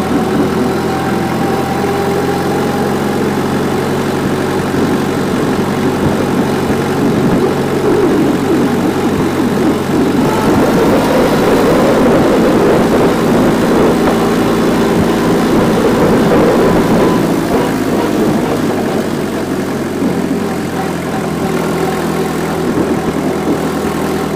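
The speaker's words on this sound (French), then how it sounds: "Mon ralenti il est un peu haut tout simplement parce que j'ai quelques vibrations" The HOLDER AM2 prototype engine idles slightly high in a steady, loud, continuous mechanical rumble with a brief swell in the middle and no talking.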